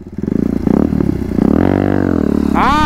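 A Bajaj Apache motorcycle doing circle wheelies, its engine loud and near, revving in pulsing bursts, then holding a high drone before rising again at the end.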